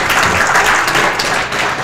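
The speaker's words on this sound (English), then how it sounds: "So if everyone give Mary Clark, Regional Director of Citizen Action, round of applause" Loud, dense applause from a rally and town hall crowd greeting a Citizen Action regional director, steady and close throughout.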